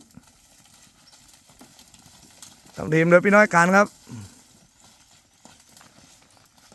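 Water buffalo walk out to graze, with faint, steady hoof clopping throughout and someone speaking briefly partway through.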